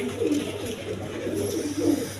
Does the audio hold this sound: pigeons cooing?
yes